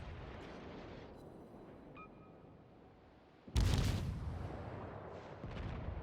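Naval gunfire in World of Warships: one heavy boom bursts out after a few seconds of low rumbling ambience, then a long rolling decay follows with a faint swell near the end.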